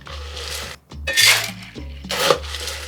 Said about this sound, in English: we are going to add some ice to this